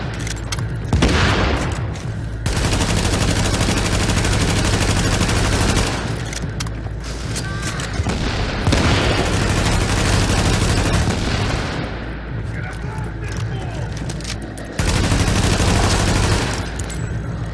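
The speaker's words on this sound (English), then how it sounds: "It's her throwing those damn grenades. I don't fucking know. She's hitting it. She got like a grenade launcher." Video game combat with grenade-launcher blasts and gunfire, dense loud bursts of shots and booms coming in waves with short gaps between them.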